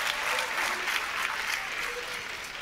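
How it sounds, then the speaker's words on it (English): A steady burst of clapping from a crowd at a keynote session, dense and sustained throughout. "give a round of applause for all"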